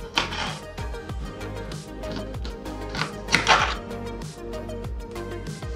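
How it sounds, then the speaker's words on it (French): A knife cuts a lemon into slices on a board, giving a quick series of close, dull chopping thunks in an irregular rhythm with a louder cluster midway. "je vais continuer à couper mon citron"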